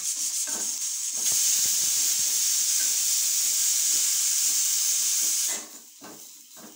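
Garlic, chilli, dried chillies, curry leaves and cumin powder hit hot oil, bursting into a loud continuous sizzle and hiss that holds steady, then fades down near the end amid light clatter.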